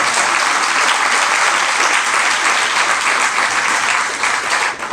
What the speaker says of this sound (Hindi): आज तो ताली ऐसे बजा रहे हो चटपटी फोड़ रहे हैं।